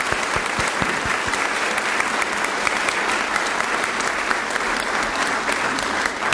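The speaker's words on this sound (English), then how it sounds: "please join me in thanking them with your applause for this" Sustained, dense applause from a sizeable audience at a college ribbon cutting in McDonald County, steady and loud throughout as people thank major donors.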